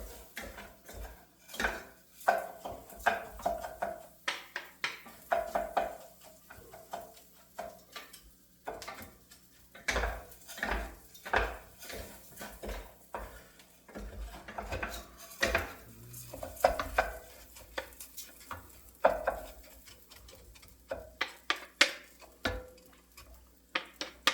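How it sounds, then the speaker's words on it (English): Rice being stirred in a pan with oil and butter, with repeated scraping and clinking of a utensil against the pan in an irregular rhythm, close and fairly quiet, with no talk. "coating our rice with the oil and the butter"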